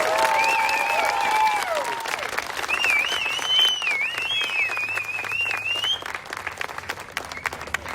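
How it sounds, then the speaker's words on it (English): A graduation audience breaks into steady applause for the graduates, a dense wash of clapping with high whistles rising over it early on, then settling into sustained clapping. "So let's give a round of applause for our graduates."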